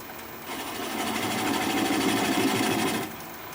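A wood lathe turns plum wood at about 400 RPM, giving a steady motor whir that rises as the spin settles and then drops off near the end, close and without talk.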